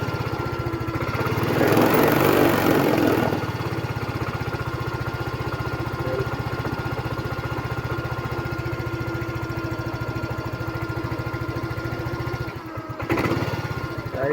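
A Yamaha Mio i 125 scooter engine runs steadily and close by, a continuous mid-pitched idle with a louder rev burst near the start and a brief dip before it picks up again near the end.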